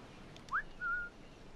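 A short two-note whistle in Assassin's Creed IV: Black Flag: a quick rising note, then a steadier held tone, fairly faint over a soft background hiss.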